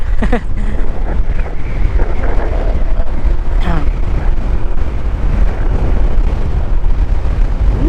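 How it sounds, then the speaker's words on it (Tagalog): Strong wind buffets the microphone in a steady, roaring rush, with a few brief higher-pitched sounds and faint voices nearby, at a coastal viewpoint near Patapat Bridge, Ilocos Norte. "Lakas ng hangin mga tol, grabe."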